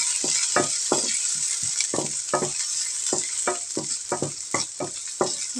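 Garlic and onion fry in a pan for a tofu and mushroom stir fry, a steady loud sizzle broken by repeated scraping strokes of a stirring utensil, close up and without talking.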